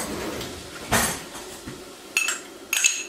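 A metal spoon clinks against a small ramekin of garlic in a kitchen: a few sharp, light taps and scrapes, close and moderately quiet, spaced irregularly with no talking.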